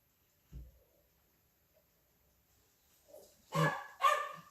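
Pet dogs barking excitedly before a walk, heard indoors: a single low woof early on, a quiet stretch, then two louder, sharper barks close together near the end.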